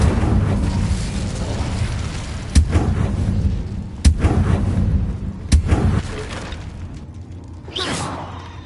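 Incendio fire spell cast repeatedly in the Hogwarts Legacy video game: three sharp whooshing bursts over a rumbling, dense combat backdrop, followed by a brighter flare near the end.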